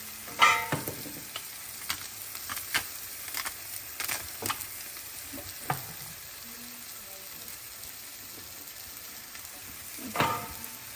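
A frying pan of mushrooms and garlic softly sizzles while a utensil scrapes and stirs in scattered strokes, with sharper clinks now and then against a quiet background.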